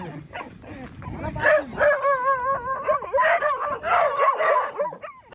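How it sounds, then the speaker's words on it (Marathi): A local dog near Sondai fort in Karjat barks and yelps excitedly at other dogs, with repeated howling, whining calls close by and some people talking. "त्यांच्यावर भुकतोय ते कुत्र्यांवर भुकतोय"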